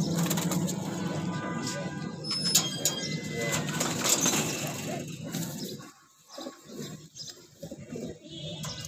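Pigeons kept in a loft with males and females housed together give soft, low cooing amid rustling and shuffling, close by, with a quieter, more hushed stretch near the end.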